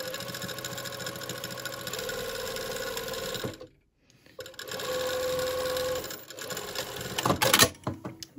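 A sewing machine stitches a pocket closed on a pair of pyjama pants, running in a loud, steady mechanical whir up close, stopping briefly partway through, then starting again and running on with a few clunks near the end.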